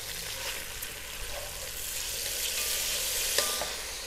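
Chopped garlic sizzles steadily in hot oil in a pan, a loud, even frying hiss throughout with a faint clink near the end.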